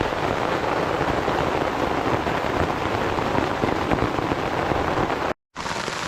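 Heavy rain pours steadily on a campsite during a June storm: a dense, loud, unbroken hiss of drops that cuts out briefly near the end.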